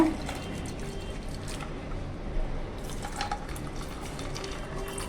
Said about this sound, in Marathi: आता आपण पुदिना आणि लिंबाचा रस टाकूया